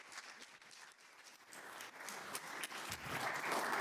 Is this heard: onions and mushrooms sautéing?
no